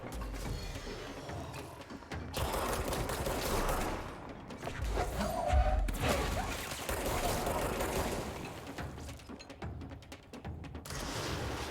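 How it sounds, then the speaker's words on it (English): A rocket-like blast booms in the middle of dense video game action, surrounded by rattling gunfire and mechanical clatter that continues loudly around it. "that sounds like a rocket"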